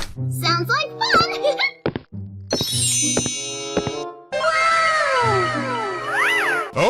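Cartoonish cat meows from the video game Scary Teacher 3D, several bright sweeping calls mixed with chimes and game effects, loud and close, with someone talking in between.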